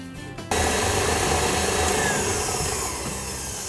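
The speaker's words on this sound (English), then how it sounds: "as you beat the buttercream, remember to use a spatula to scrape down the sides" An electric mixer beats coconut buttercream for cupcakes, switching on suddenly into a loud, steady whirring drone that holds unbroken and fades slightly toward the end.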